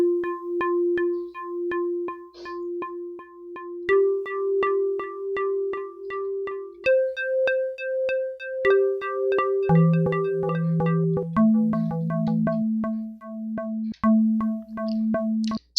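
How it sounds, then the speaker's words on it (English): A smooth Sega Genesis synthesized tone with detune holds sustained notes that shift in pitch, layered with a steady pulsing chorus-delay echo from a single instrument, giving a wavering, chorus-like shimmer throughout. "So this chorus delay echo sound you hear is all being produced with a single instrument"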